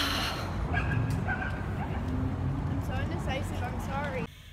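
Dogs bark and yip close by in an outdoor spot, with short high barks and whimpers over steady background noise while people talk nearby.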